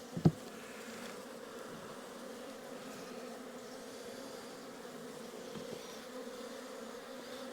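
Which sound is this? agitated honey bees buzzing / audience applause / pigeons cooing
agitated honey bees buzzing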